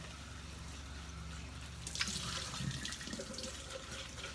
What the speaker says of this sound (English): rinse out your cup in between uses, or in between colors, so that your colors don't mix